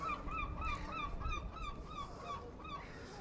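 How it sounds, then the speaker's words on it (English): Repeated wavering gull calls ring out over steady low background noise at a seaside harbour in Wells-next-the-Sea, several calls in a row, fairly clear and moderately near. "Good to hear the gulls."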